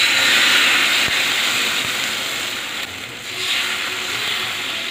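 Instant rava dosa batter poured onto a hot pan gives a steady, loud broadband sizzle that hisses continuously throughout with slight swells and dips, and no voices.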